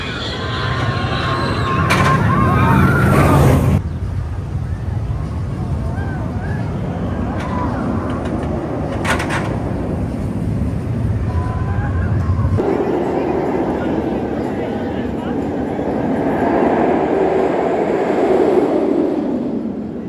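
Rumbling roar of the Valravn roller coaster at Cedar Point, a continuous heavy rush of wheels on track with wind noise, shifting in intensity as the ride moves, loud and up close.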